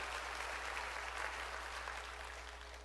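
Congregation at a Korean church worship service clapping together, a dense steady wash of applause filling the room with a constant low hum beneath, fading slightly toward the end.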